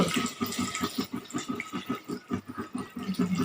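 Water poured slowly into a cooking pan, a steady close splashing trickle with a rapid burbling pulse throughout, fairly loud and alone without talk.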